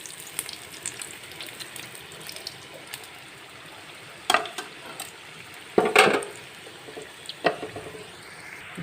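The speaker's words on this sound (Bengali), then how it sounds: "প্যাটিসগুলো একদম সুন্দর করে ভাজা হয়ে গেছে" Chicken patties frying in a wok give a low sizzle under scattered clatter and scraping, with louder bursts as they are turned, heard up close.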